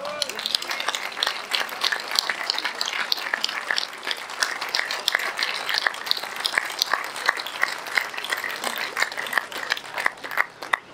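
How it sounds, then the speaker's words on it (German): Sustained audience applause at a political rally in Saxony, dense clapping filling the whole stretch with steady intensity and no pauses, carried by a large crowd. "schließen auch wir uns diesem Applaus an."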